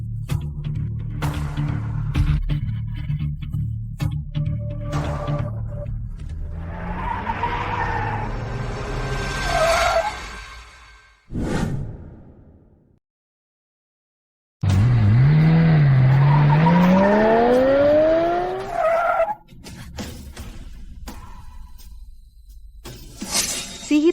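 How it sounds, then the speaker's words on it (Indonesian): A car approaches with engine roar and long rising tire squeals and skids, cutting out briefly, then returning with more screeching and a crash-like burst near the end, loud and close. "Itu mobil ayah."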